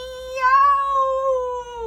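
A human voice imitates a cat's meow, one drawn-out, wavering cry that rises and then slowly falls.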